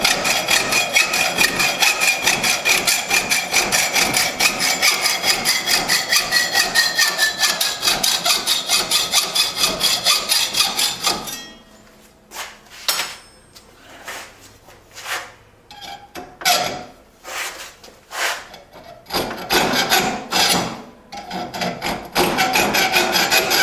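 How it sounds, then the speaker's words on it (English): A hacksaw cutting excess steel from a handmade knife blank, first a steady, fast, continuous rasping stroke, then pauses broken by several separate short strokes and scrapes, close and loud with no voices. "take the hacksaw and remove a bunch of the excess before we go over to the belt grinder"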